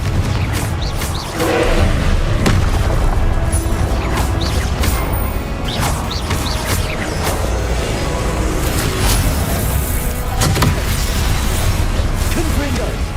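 Repeated explosive blasts from the Confringo spell in the Hogwarts Legacy game, loud crashing booms and pops recurring across the clip over a dense, continuous game soundscape, with a voice speaking throughout.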